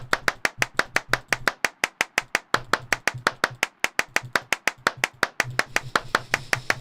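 Sharp, evenly spaced claps ring out one after another in the video game Clapism, roughly four or five per second, crisp and close with a slight room echo, a short gap interrupting the otherwise steady rhythm.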